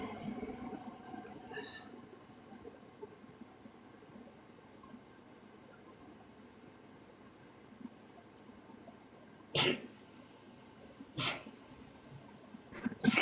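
A sneeze from someone with allergies, with two sharp bursts near the end and a third cut off at the close, standing out over quiet room noise with little talk.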